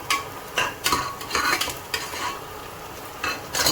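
Sliced onions and curry leaves frying in a pan for a goat trotter curry, with a spoon stirring in repeated scraping bursts over a continuous sizzle, close and fairly loud.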